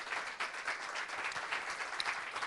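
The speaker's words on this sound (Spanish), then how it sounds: "Démosle un aplauso al Señor." Congregation clapping in praise during a Spanish-language church sermon, a full, continuous burst of applause from many hands, close and lively for the whole stretch.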